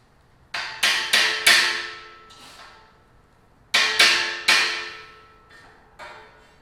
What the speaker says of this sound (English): I'm going to actually tap this down.